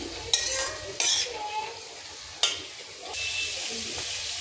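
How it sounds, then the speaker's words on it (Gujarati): Onions sauté in a pan for Mexican rice, with a soft sizzle under repeated spoon scrapes and clinks against the pan, heard close and fairly quiet. "હવે આપણે ડુંગળી સતળાઈ ગઈ છે તો એમાં હળદર લઈ લઈશું."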